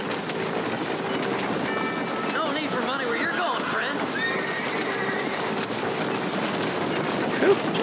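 A train rumbles steadily through the Red Dead Redemption video game with a clickety-clack. A horse whinnies faintly over the continuous rolling noise.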